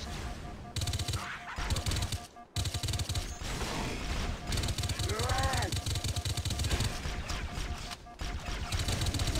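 Beam rifle fire in Halo SPV3, dense rapid bursts of shots running almost without pause, with loud battle noise and a voice talking over the action.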